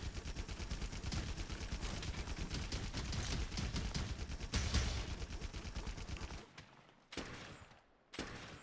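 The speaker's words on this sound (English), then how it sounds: "the steel assault is a machine gun" Steel Assault machine gun in the Monster Hunter World beta blazing away in a dense, continuous burst for about six seconds, then stopping and firing two shorter separate bursts after brief pauses.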